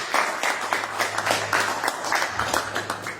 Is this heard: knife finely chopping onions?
no